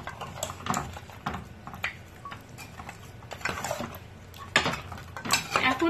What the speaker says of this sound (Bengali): এবার আমি খুব ভালো করে মিশিয়ে দিচ্ছি।